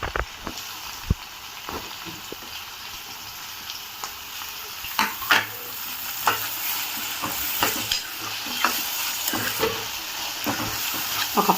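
Cucumber pieces fry with onions and green chillies in a pan and hiss steadily. A utensil scrapes and clacks as they are stirred, in irregular knocks over the sizzle.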